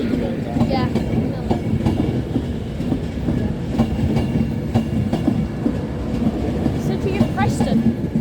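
An eleven-carriage Pendolino tilting passenger train rolls past close by, a loud continuous rumble with rhythmic wheel clatter throughout, while people chat faintly nearby.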